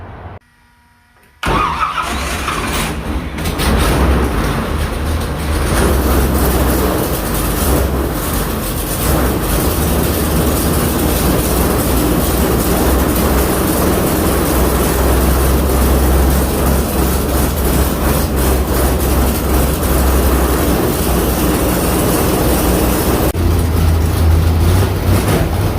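An engine, freshly fitted with new push rods and cylinder heads, cranks and fires up after a short quiet start, then runs loud and steady close by with a rumbling low idle and no talking.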